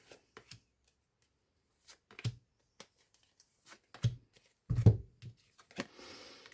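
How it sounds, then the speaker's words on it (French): Tarot cards being shuffled and drawn from a deck make soft, sparse riffles and taps, close and quiet, with brief pauses between the handling sounds. "Allez, je vais prendre 3 cartes."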